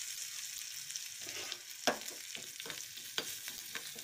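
Curry leaves drop into hot oil with popping mustard seeds, giving a soft steady sizzle with a few sharp crackles and spits, fairly quiet and close, no talking.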